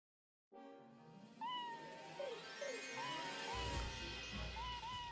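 A cat meows several times in the Suikoden video game, short rising cries over a sustained musical drone, with a crash-like rumble joining partway through.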